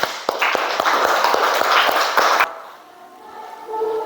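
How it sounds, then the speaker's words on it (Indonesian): Classroom applause for a student discussion group, a burst of many hands clapping with sharp irregular claps for about two and a half seconds, then stopping abruptly into quiet room tone. "Ayo tepuk tangan untuk kelompok 2."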